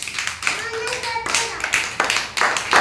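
Children clap together at an Anganwadi activity session, several loud rippling bursts of hand claps with short pauses between them and a brief voice in the background.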